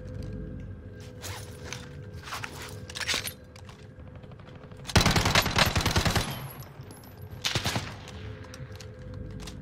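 Call of Duty Warzone gunfire: scattered bursts of shots early on, then a loud sustained automatic burst in the middle and a few further shots near the end, with mechanical clicks and rattles between them.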